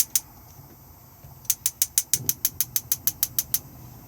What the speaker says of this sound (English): just push in, twist, and they'll ignite